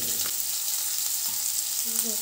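Mustard seeds, cumin, dried red chilies and finely chopped onion fry in hot oil with a steady, dense sizzle, close and continuous, with a faint stir partway through.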